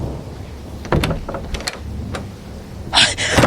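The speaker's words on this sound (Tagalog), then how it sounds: "Bakit mo binubuksan ang pinto?" A door is opened with a few clunks and latch clicks, then a short hissing slide near the end, close and moderately loud over faint background noise.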